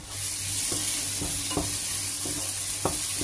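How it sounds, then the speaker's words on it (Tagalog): Onions cook in a clay pot, a steady sizzle and hiss close up with sharp periodic scrapes and taps of stirring every half second or so. "nagluluto pa ako dyan ng isang palayok na sibuyas din"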